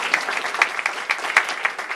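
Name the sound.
audience applause for Stan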